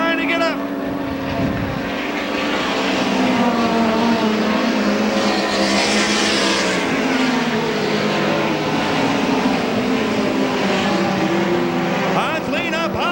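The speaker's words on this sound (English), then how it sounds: "The 2 and the 4 car racing together." Midget race cars at the 1991 Belleville Midget Nationals roar around the track in a continuous loud engine drone, with an announcer calling the race over it.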